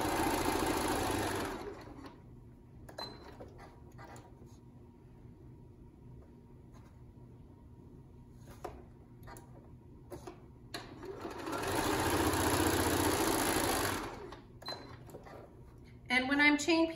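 A sewing machine chain piecing patriotic star quilt block corners made from precuts runs in two sustained bursts at the start and again near the end, close and steady, with light handling noises and pauses between.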